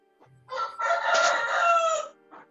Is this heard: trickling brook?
no